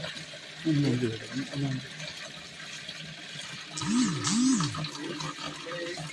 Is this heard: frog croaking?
no